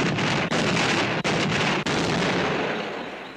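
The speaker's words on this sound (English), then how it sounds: "in this demonstration, we use small explosions" Small dynamite charges set off in a demonstration to cause earth tremors produce a loud, continuous rumbling roar, broken by three brief sharp dips, fading slowly toward the end.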